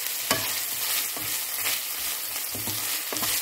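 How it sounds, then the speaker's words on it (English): Minced pork frying in a pan and being stirred: a steady, close hiss of sizzling with regular scraping strokes of the spatula repeating roughly every half second. "Then add 20 grams of minced pork and continue stirring until the meat is well cooked."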